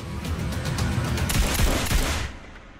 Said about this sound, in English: Shots fired in the embassy.